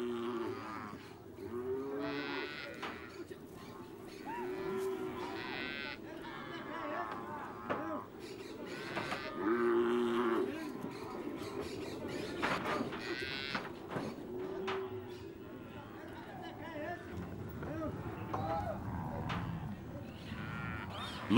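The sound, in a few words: calves mooing during cattle branding in the Amazonian marshes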